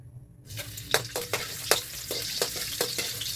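Food is stirred in a hot frying pan: a sizzle starts abruptly, then repeated close scraping strokes of a utensil follow in an uneven rhythm over continuous frying.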